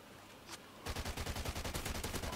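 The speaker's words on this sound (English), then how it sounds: "This is a sniper rifle." Gunfire in a Call of Duty Ghosts multiplayer match: after a quiet start, a rapid, loud string of evenly spaced shots rattles on to the end, with no talk over it.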